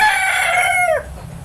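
A crossbred rooster lets out a single loud, close crow that holds steady, then bends downward and cuts off, leaving a quiet low background.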